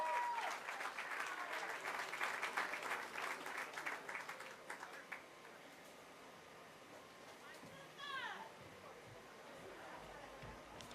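Crowd at an outdoor rally applauding after the national anthem, dense clapping and cheers that fade over several seconds, followed by quieter ambience and a brief rising whistle or squeal near the end.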